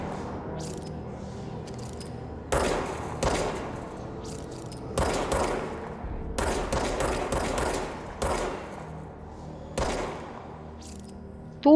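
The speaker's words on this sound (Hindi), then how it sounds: "गोली चला के देखो यहाँ से।" Bursts of video game gunfire, several sharp volleys of rapid shots spaced a second or two apart, loud and close with quiet gaps between.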